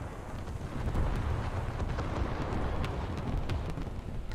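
Warship turret guns firing shells in a naval combat video game, a sustained, heavy rumbling boom with dense low-end roar and scattered sharp cracks, loud and continuous throughout without talk.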